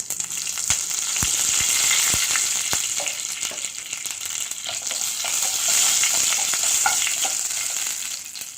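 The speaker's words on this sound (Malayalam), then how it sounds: "ഇനി ഞാൻ കറിവേപ്പില ഇട്ട് കൊടുക്കാം." Curry leaves dropped into hot coconut oil with popped mustard seeds, a loud steady sizzle with sharp crackles and spatters near the pan for several seconds, alone without talk.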